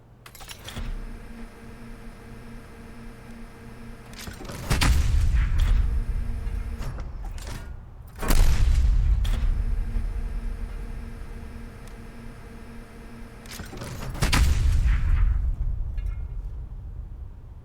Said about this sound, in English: this is a freaking awesome sound the artillery makes here